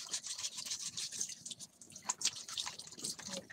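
Close, wet scrubbing from a brush cleaning something near running water, with rhythmic bristle strokes and light dripping continuing throughout, and no voices.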